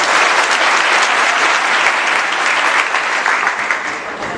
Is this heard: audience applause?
yes